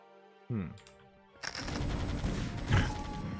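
Goliath units firing in a StarCraft: Remastered pro match, rapid bursts of gunfire rising into a dense continuous volley, with a few short clicks and a brief tone beforehand, moderately loud and close.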